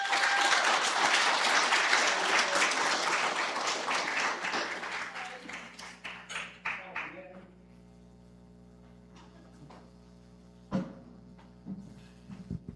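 Applause from a large crowd at a university criminal justice capstone ceremony welcoming a professor, dense and sustained at first, then thinning to scattered claps and fading into room quiet with a few late claps.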